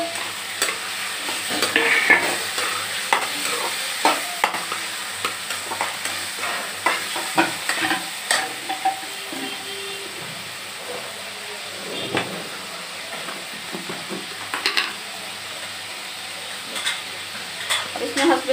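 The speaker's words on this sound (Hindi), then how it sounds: "अब इसमें लहसुन अदरक का पेस्ट जाएगा, 2 सेकंड मैं इसको भूनूंगी।" Onion, garlic-ginger paste and tomatoes fry in a kadhai for kadai bhindi, a steady sizzle broken by frequent scraping stirs of a spoon against the pan, close and continuous throughout.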